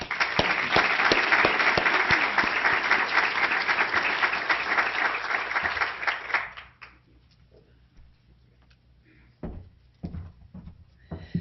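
An audience applauds to welcome a guest speaker to a campus lecture, with dense sustained clapping that fades out after about six seconds, followed by a few isolated knocks and rustles.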